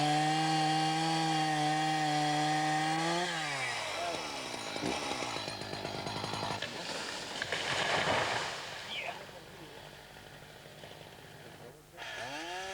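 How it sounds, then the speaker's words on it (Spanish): A chainsaw cuts through the thick, many-ringed trunk of a large tree in a forest, its engine note dropping into a rough, grinding bite through the wood and staying loud and close for several seconds before easing off. "Son muchos años, muchos anillos en el tronco, los que se vienen abajo con los embates de la sierra."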